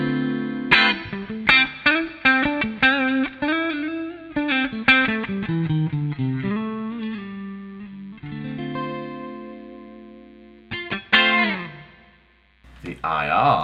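Clean electric guitar through a Line 6 Helix modelled amp cabinet with compression and chorus-like modulation plays a series of plucked notes and sustained chords, ringing out with some echo, then a brief strum.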